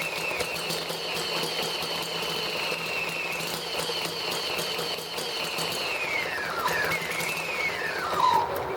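A flooded ET1 generator engine cranks and labours steadily without catching, a continuous mechanical whirring with a high squealing whine that bends in pitch, close and loud.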